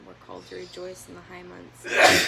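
A sharp, breathy sneeze bursts out loudly at the end, right after a person speaking calmly.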